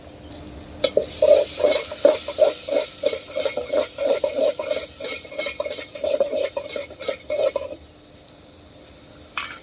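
Onions frying with a spoonful of salt in a pan for a duck meat bhuna, with repeated clinking spatula strokes over a soft sizzle that fades out near the end.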